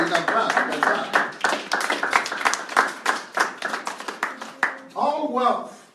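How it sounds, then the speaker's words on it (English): Audience clapping at a church sermon, a steady run of sharp hand claps from many people filling most of the stretch, thinning near the end as a voice starts speaking. "you can clap"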